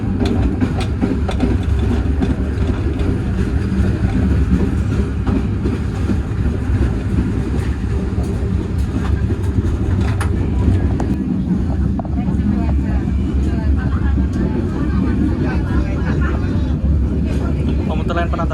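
Matarmaja train departs from the station at Malang, a loud, steady rumble of engine and rolling wagons continuing throughout, with people talking over it.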